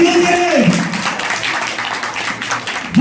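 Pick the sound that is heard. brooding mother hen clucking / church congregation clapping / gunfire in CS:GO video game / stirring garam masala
church congregation clapping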